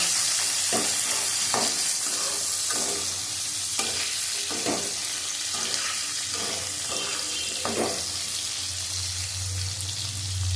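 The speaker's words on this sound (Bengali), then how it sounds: "চারটে কাঁচা লঙ্কা দিলাম" Four slit green chillies fry in hot oil while a utensil stirs them, giving a steady close sizzle broken by regular scraping strokes against the pan; no one speaks.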